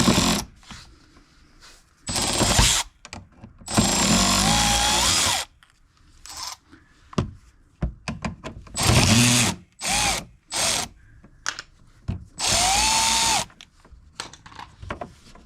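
Cordless power tool backing out T25 Torx screws from the sidemarker on a 2022 Dodge Charger widebody, in several short whirring bursts of one to two seconds separated by pauses, close and loud, alongside faint clicks and handling noise.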